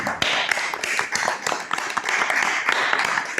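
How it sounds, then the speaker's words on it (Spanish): An audience claps in a dense, continuous burst of applause, many hands close by blending into a steady wash with sharper individual claps standing out. "¡Un gran aplauso para mi Xavi!"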